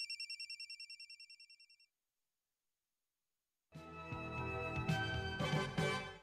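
A telephone rings on a radio call-in show, a bright electronic trill pulsing in quick repeated bursts for about two seconds, then silence before music or ambient sound begins.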